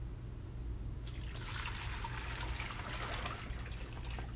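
Dirty aquarium water is poured back, a steady splashing and trickling stream that starts after about a second and runs on, over a constant low hum.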